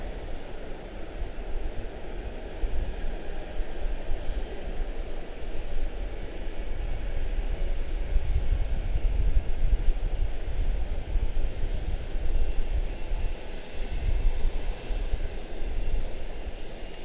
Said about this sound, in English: Beautiful departure for 5939 to Augusta